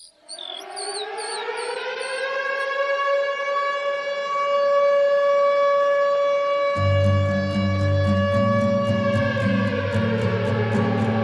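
An air raid siren wails loudly in a long rising and sustained tone, and partway through a musical beat with bass enters beneath it.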